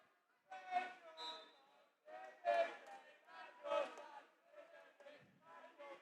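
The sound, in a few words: university crowd jeering a water polo player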